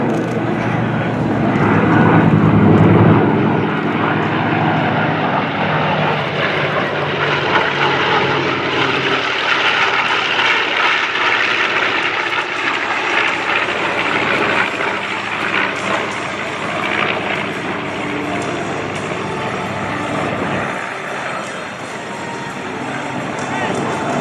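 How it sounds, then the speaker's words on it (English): A TBM Avenger warbird's radial engine gives a deep, grumbling roar as the plane flies past at an airshow warbird parade, loud and steady throughout before easing slightly as it moves away. "radial engine in the TBM Avenger"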